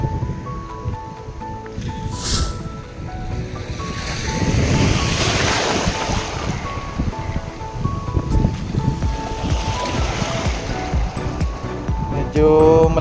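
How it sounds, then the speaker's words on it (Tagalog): Strong ocean waves surge and wash in a continuous rushing roar, mixed with gusty wind noise buffeting the microphone. "Malakas na ang alon."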